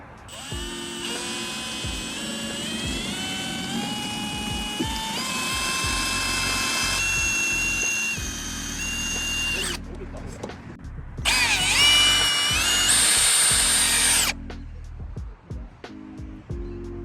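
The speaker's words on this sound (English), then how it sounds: "So we'll start drilling." A power drill whines loudly through metal canopy bracing on a 79 Series Landcruiser in several long bursts, pitch rising as it bites, with brief pauses between holes and some talking underneath.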